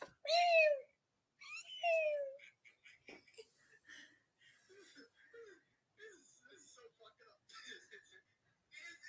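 A cat gives two loud, close meows, each sliding downward in pitch, then quieter scattered chirps and sounds follow.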